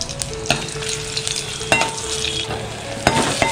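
Crushed garlic cloves frying in a cooking pot, with a steady close sizzle broken by a few sharp scrapes and knocks from stirring, and no voices.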